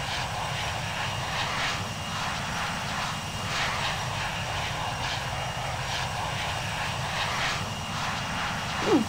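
A steady airplane engine drone while flying in a video game, holding an even, moderately loud hum for about nine seconds with no talking.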